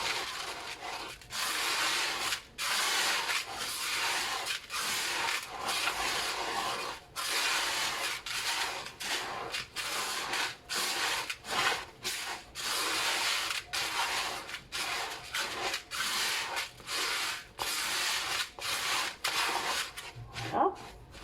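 Bath salts and baking soda being stirred together in a container, a steady gritty rubbing and scraping that runs almost continuously with brief pauses, close and fairly quiet.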